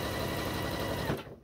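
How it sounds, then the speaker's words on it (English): A sewing machine stitching a quilt top: rapid, even mechanical whirring and needle clatter close by, running steadily then stopping abruptly near the end, with no talking. "I'm just going to sew over that teeny little bit that I had before I broke it loose"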